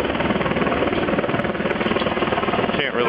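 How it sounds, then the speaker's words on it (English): Helicopters hover over a school shooting scene at Gardena High School in LA, California, their rotors beating in a steady, loud, continuous chop that dominates the short stretch as a nearby voice speaks beneath. "there's a school shooting helicopters right up there in the sky"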